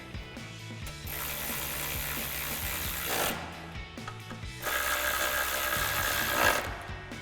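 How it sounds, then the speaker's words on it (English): Ratchet clicking as a T30 socket tightens bolts on a Jeep Wrangler JL front grille area, a steady run of close mechanical clicks in two long bursts with a brief pause between, no talking. "And now we can tighten them down with our T30 socket."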